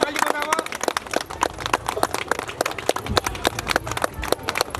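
An audience claps at a Tharu Jitiya festival program in Itahari, Nepal, with irregular sharp claps scattered closely through the whole stretch, fairly near, while a voice talks briefly at the start.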